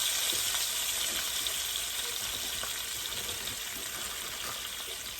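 Frozen bitter gourd frying in a pan with turmeric powder gives a steady, close, dense sizzle that holds evenly throughout with no voices.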